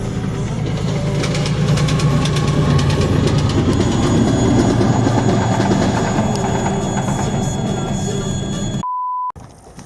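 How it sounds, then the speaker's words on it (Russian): Suburban train standing at a station, a loud rumbling engine and rattling wagons steady throughout, ending in an abrupt cut and a brief electronic beep. "буду выбираться на пригородном поезде, который стоит и готов к отправлению"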